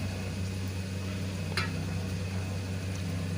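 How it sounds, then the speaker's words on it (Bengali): Onions frying in a pan for a bhetki fish recipe, a steady close sizzle and hiss with a brief clink partway through. "দেখো পেঁয়াজটা বেশ অনেকটা ভাজা হয়ে গেছে"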